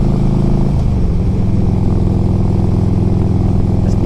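A 2004 Harley-Davidson Electra Glide Ultra Classic motorcycle rides along with a loud, steady low engine rumble, heard close from the rider's position, with a slight shift in pitch early on as it changes speed.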